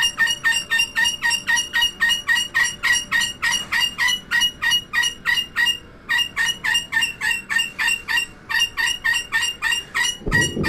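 A pet bird squawks loudly and nonstop in fast, rhythmic, harsh bursts, close by, pausing briefly once before starting again, with a thump at the end and no voices.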